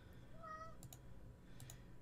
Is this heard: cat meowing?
yes